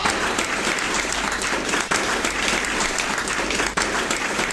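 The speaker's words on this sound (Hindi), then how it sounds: "आपकी तालियां बता रही हैं मैं सही कह रहा हूं" A large audience claps in loud, sustained applause that continues steadily throughout, dense and close.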